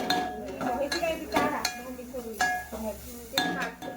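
Metal pots and pans clinking and clattering during dishwashing, a series of sharp close clanks scattered through the clip, with a person's voice talking faintly underneath.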